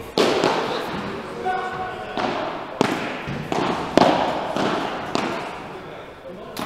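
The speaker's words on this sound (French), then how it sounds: "elle reste dans le filet cette volée" Padel ball hits during a professional tournament match, a string of sharp thuds and pops from rackets and glass walls at an uneven pace, a volley into the net among them, with a voice talking over the play.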